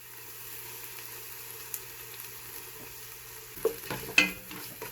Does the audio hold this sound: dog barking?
no